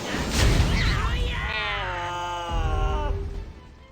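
A cat's meow from the video game Digimon Survive, a drawn-out wavering cry with a rising and falling pitch, heard fairly close over background game music and ambience.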